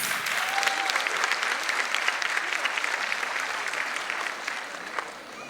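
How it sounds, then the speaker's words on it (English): Audience applause fills a school annual day performance for young grade-school pupils, a dense, steady clatter of many hands sustained throughout and tapering slightly near the end, with a faint voice briefly audible beneath. "So, audience, please give them a huge round of applause."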